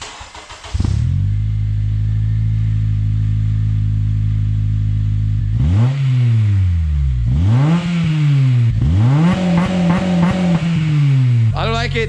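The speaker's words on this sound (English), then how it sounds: "Now that we got the muffler out, let's do another sound clip with just the muffler out." An 8th-gen Honda Civic Si with its muffler removed starts up, idles with a loud, steady raspy drone, then revs sharply three times, each blip rising and falling, all close and loud.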